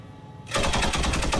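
Automatic weapon fire in the video game Squad bursts in after a quiet half-second, a loud, rapid, evenly spaced stream of shots continuing to the end without speech.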